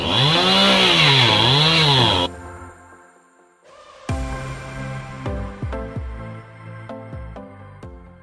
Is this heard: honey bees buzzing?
no